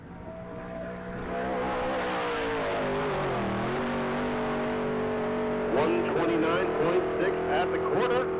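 A heavy 1971 Oldsmobile accelerating hard on a top-speed mile run at a racing event, its engine note rising steadily and loud throughout, with a voice commentating over it.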